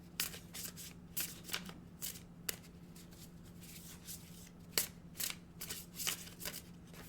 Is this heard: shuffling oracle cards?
yes